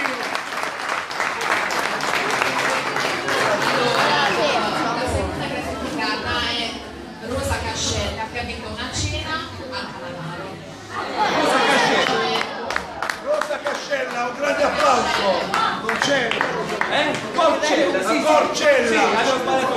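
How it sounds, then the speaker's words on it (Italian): An audience at a lively Italian entertainment show claps loudly and steadily. The applause dips briefly, then swells again, mixed with crowd chatter and voices. "un grande applauso"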